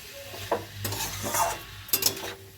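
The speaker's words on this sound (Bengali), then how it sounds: "দিয়ে ভালো করে এটাকে নেড়ে ভালো করে মশলাটাকে মিশিয়ে দেবো" A spoon scrapes and stirs spices and garlic paste through fish and vegetables in a hot pan, several short scraping strokes over a faint sizzle, close and clear.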